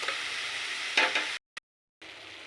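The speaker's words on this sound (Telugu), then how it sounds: "ఆనియన్స్ అనేవి మనకు ఫ్రై అయిపోయాయి" Chopped onions with salt frying in a pan for a ridge gourd curry, giving a steady bright sizzle with a brief louder burst of stirring before the sound cuts out twice and then resumes.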